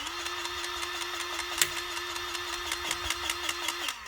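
A Ryobi cordless electric grease gun running, a steady motorized hum with a constant tone and faint rhythmic ticking throughout, close and continuous.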